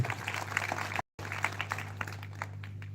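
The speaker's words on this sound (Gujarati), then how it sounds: "કાજલબેન સુવા માટે મિત્રો એક વખત જોરદાર તાળીના ગણતરી" Dense applause from a crowd at an Aam Aadmi Party gathering in Surendranagar, steady clapping over a low hum, with a brief cut in the middle before it carries on.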